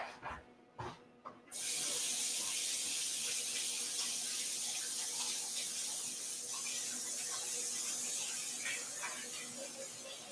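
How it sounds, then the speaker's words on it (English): Hands are rinsed under a running kitchen tap, a few splashy bursts at first giving way to a steady close rush of water that softens slightly toward the end. "So just going to rinse my hands off really quick."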